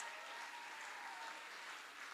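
An audience applauds a country singer at a gala evening, with dense, steady clapping that holds at an even level from start to finish and no voices over it.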